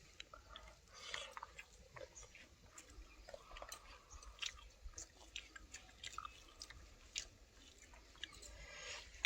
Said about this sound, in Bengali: এবার চুই ঝালটা চিবিয়ে খেয়ে দেখি কেমন ঝাঁজ